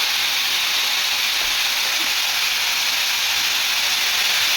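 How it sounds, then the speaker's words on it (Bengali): Potatoes frying in oil in a pan, a steady loud sizzling hiss with no other sounds. "আলুটা ভাজতে দিয়ে দিয়েছি, আর এখানে আমার পনিরটা ভাজা হয়ে গেছে"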